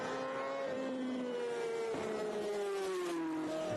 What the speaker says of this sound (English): Davey Todd, Ian Hutchinson and Connor Cummins flying past the start line on their Supersport machines.